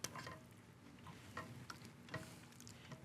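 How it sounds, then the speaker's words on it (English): A rubber spatula stirs a beef and veal stew in a pot, giving soft, quiet scraping and wet stirring sounds with a few light clicks, and no one talks. "At this point, I like to stir everything with a rubber spatula because I don't want to"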